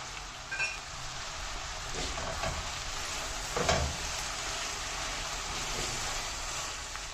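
Chopped tomatoes, small ones, frying in a pan with moong and ginger, giving off a steady dense sizzle with a few louder crackles and stirring bumps, close and continuous with no talk.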